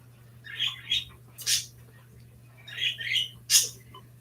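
Two bursts of high, squeaky bird calls, each a quick cluster of chirps with a sharper squawk at the end, over a steady low hum.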